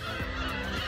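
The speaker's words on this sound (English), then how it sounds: "Look at all those chickens." Chickens at a site in Hachinohe, Japan give a short burst of nasal, honking calls, fairly close, against a constant background hum.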